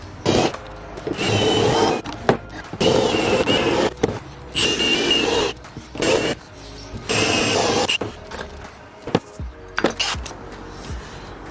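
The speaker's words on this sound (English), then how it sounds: "we're just going to drill that inner section out" A drill bores out the inner section of a pipe thread in repeated loud bursts of grinding, separated by short pauses and clicks, close up.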